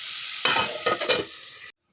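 Cucumber for a fish curry sizzles in a hot pan while a spoon scrapes and stirs it in a few quick strokes, then the sound cuts off abruptly.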